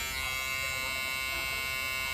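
A light Andis electric shaver runs with a loud, steady, close-up buzz, its motor whine constant and unbroken throughout with no talking.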